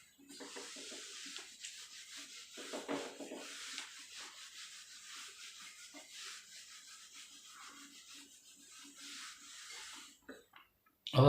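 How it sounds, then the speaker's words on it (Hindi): A duster rubs writing off a board in a chemistry class, with soft, close, irregular scrubbing strokes for about ten seconds, faint and intermittent, ending with a brief louder knock. "अब मैं इसको रब कर लेता हूं"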